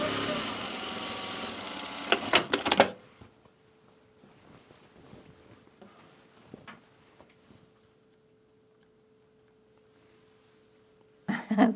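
A short burst of sewing machine stitching on a garment duffle bag runs for about three seconds, then gives way to a long quiet stretch with a faint hum and light handling, and a brief burst returns at the end.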